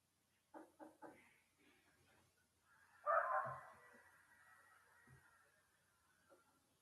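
A dog barks three quick times, then lets out a louder yelp or whimper, followed by a couple of faint barks in a quiet space.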